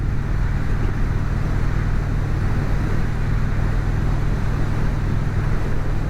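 Motorcycle riding along a road on a cold day in Virginia, a steady low engine drone mixed with rushing wind noise, continuous and close, with no talking.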